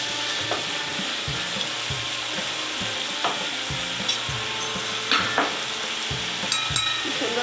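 Potato and long bean curry being stirred and fried in a pan, a steady sizzle broken by repeated scraping strokes of the spatula, close and fairly loud.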